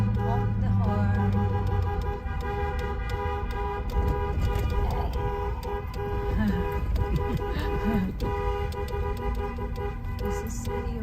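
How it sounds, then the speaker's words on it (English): Car horns toot repeatedly in a truck and car convoy in Boise, Idaho, with sustained tonal honks sounding over rumbling engines and traffic noise. "Honk the horn."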